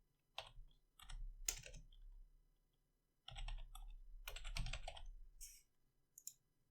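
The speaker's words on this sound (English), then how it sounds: "within here, we'll also type in first name" Typing on a computer keyboard comes in quick bursts of clicking keystrokes separated by short pauses, close and fairly quiet, with no talking.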